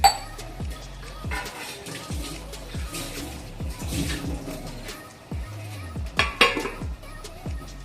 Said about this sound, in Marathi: त्याच्यावर झाकण देते जरा